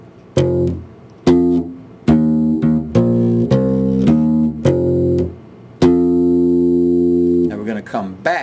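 Bass guitar plays a theme phrase, a series of distinct plucked notes in the familiar rhythmic pattern, loud and close, ending with a sustained note and a few quick extra plucks.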